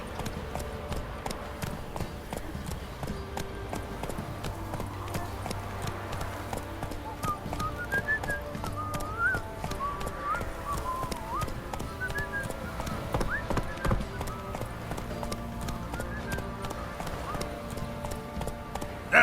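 A horse's hooves clip-clop at a gallop in The Witcher video game, a steady rhythmic beat behind game music with whistling tones and occasional voices.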